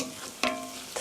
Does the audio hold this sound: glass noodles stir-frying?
yes